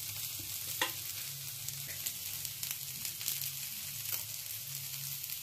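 Green peas and fresh coriander leaves sizzle steadily in a pan, a continuous close frying hiss with occasional soft stirring scrapes and clicks, with no voices.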